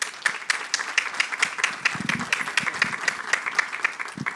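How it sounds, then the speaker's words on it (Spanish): Audience applause welcoming a speaker to a lecture on care work in the social economy: dense, continuous clapping from a room of people, steady and fairly close for about four seconds, with no voices. "le damos la palabra y un aplauso también para darle la bienvenida a Caro Brandaliz"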